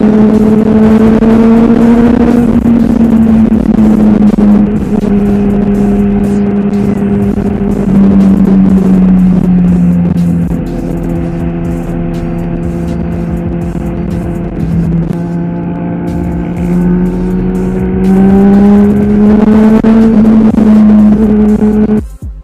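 Motorcycles, including a Motorstar Z200S, ride along the Marilaque highway. A loud, close engine drone holds steady for the whole stretch, its pitch sliding up and down as the bikes accelerate and ease off.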